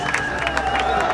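A crowd at a car drift event, with Alfa Romeo 75 drift cars competing at Serres, breaks into strong applause and cheering, a dense wash of clapping under a commentator's voice.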